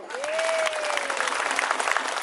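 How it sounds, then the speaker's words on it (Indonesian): An audience at a mosque gathering for a Maulid Nabi religious lecture claps in a dense, sustained round of applause that starts right away and holds steady throughout. "Tepuk tangan dulu dong"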